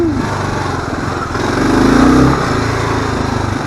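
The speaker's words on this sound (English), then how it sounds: "See how easily the tires spin" A KLR motorcycle engine revs as its tires spin on loose ground at a camp, a buzzing single-cylinder drone that swells briefly in the middle before settling back down.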